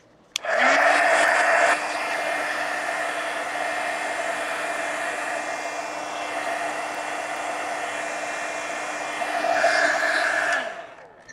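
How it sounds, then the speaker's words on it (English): Heat gun blowing on wet paint on a color pencil portrait, a loud steady whooshing drone with a faint whine that starts abruptly, runs continuously for about ten seconds with a slight surge near the end, then cuts off. "Let me hit that with the heat gun real quick."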